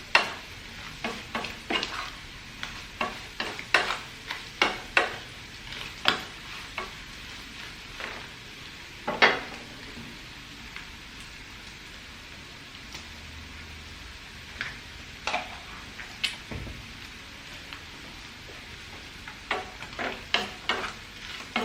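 Buffalo meat for pickle sizzles softly in a pan while a utensil scrapes and clicks against it in irregular bursts of stirring, close and fairly quiet.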